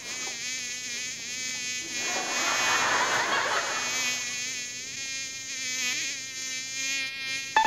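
A fly buzzes close by with a steady droning whine that swells louder for a couple of seconds as it passes near, then settles back to a constant hum.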